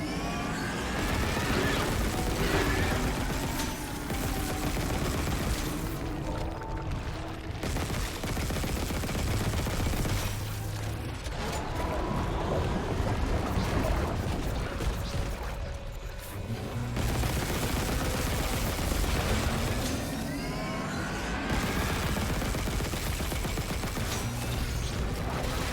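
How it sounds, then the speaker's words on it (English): Pulse rifle fire in the Dead Space Remake rattles out in long, dense automatic bursts, loud and close, separated by brief pauses, with mechanical clatter and other game noise filling the gaps. "Let's try the pulse rifle."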